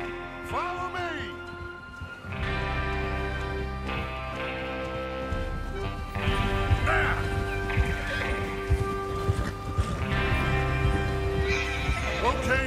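Horses in Red Dead Redemption 2 neigh and whinny several times over a steady clip-clop of hoofbeats, loud and close, with a voice talking through part of it.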